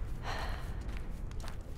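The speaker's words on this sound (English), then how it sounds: "Stop breathing, Mom. I don't like the heavy breaths." Heavy breathing close to the microphone, a slow, breathy gasp and exhale over a steady low rumble of background noise.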